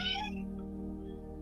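A pet cat gives one clear, fairly close meow at the start, then falls quiet over a steady low household hum.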